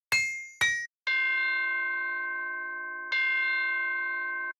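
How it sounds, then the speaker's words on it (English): A synthesizer bell patch from a song remix session: two short bright metallic strikes, then two long ringing bell tones with steady harmonic overtones that slowly decay, played alone with no voices. "Nice bell."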